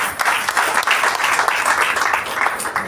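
Loud, dense applause for Nisha at her retirement felicitation ceremony, steady and sustained throughout with no voices over it.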